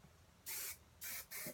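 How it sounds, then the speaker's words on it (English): Three quick bursts of hairspray hiss close by, one longer and two shorter, against quiet background. "So I kind of spray"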